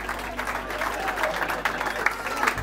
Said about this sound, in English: So let me give you guys a round of applause.